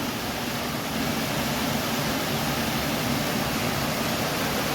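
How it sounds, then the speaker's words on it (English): Panther Creek Falls in the North Georgia woods gives a steady, even rush of falling water, broad and continuous with no voices. "our third waterfall for today is going to be Panther Creek Falls"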